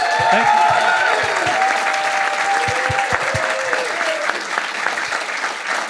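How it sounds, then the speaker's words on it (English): An audience gives a round of applause for guest of honor Jerry Rice, loud sustained clapping with some crowd noise and a few low thumps, fading slightly toward the end. "Let's give our guest of honor a round of applause."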